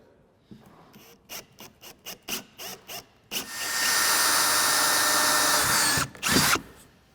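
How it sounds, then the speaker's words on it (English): A power drill with a 3/16 bit whirs in several short bursts, then runs steadily for a few seconds before stopping, followed by a final quick burst, close up. "I'm going to drill those two holes with a 3/16 drill bit."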